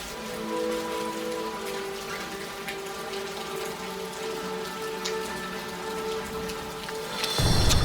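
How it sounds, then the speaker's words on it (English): Steady rain pours in the Amazon rainforest, a dense, continuous patter on leaves and surfaces, rising into a heavier, louder splash at the very end. "Despite the rain"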